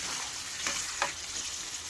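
Malabar spinach stir-fried in fish oil gives a steady close hiss with a couple of soft stirring scrapes over the brief stretch, and no one talks.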